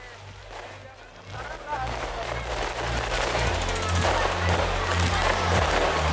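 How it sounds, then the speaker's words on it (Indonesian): A New Year's Eve fireworks display in Parepare, South Sulawesi, heard as a rapid, dense crackle of bursts building to a steady loud roar, with crowd noise and a news narrator speaking over it. "Malam pergantian tahun baru di kota Parepare, Sulawesi Selatan berlangsung meriah dengan pertunjukan pesta kembang api"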